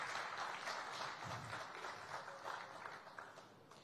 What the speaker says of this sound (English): Let's put our hands together for all the gentlemen who've made it here.